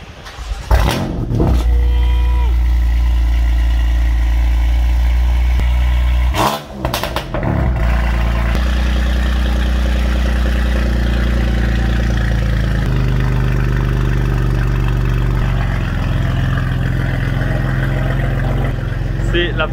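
A BMW M4 Competition engine close by, idling with a deep rumble between sharp revs and bursts from the exhaust, loud throughout while a person talks over it.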